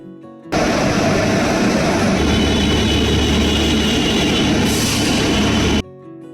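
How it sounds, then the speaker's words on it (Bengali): A Garib Rath passenger train on the Kolkata to Agartala line gives a loud, steady, close rumble of engine and rolling stock that runs without a break for several seconds, with no voices over it. "এই গরিবরথ ট্রেনটি কলকাতা থেকে আগরতলা দীর্ঘ 1588 কিলোমিটার যাত্রাপথটি অতিক্রম করতে সময় নেবে 31 ঘন্টা 30 মিনিট"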